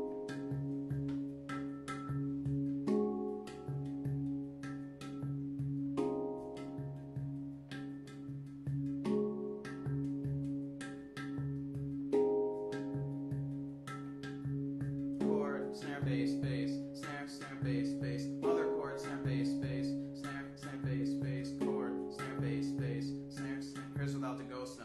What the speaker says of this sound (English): and now we're on to partito alto, which is another world groove I like to do on drum set, and applying it to the handpan